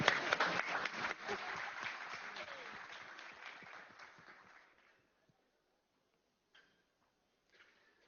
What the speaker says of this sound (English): Please give them a round of applause, people.